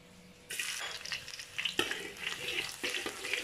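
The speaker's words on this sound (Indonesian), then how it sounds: "Tumis sampai dia sedikit hangit baru Maggi kita nanti rasa sedap sikit." Minced garlic, four cloves, frying in hot oil for a Maggi prawn curry at a Malaysian street-food stall, a soft steady sizzle that swells at half a second and carries on with light scraping stirs, no talk.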